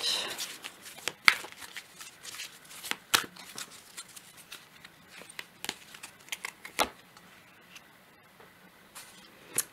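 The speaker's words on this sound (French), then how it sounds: "je vais aussi prendre une autre carte avec" Tarot cards are handled and shuffled close up, giving crisp, irregular riffles, slaps and papery flicks in scattered bursts against a quiet background, with no talking.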